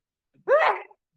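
A single short human sneeze, loud and close, heard alone in a quiet city council meeting room.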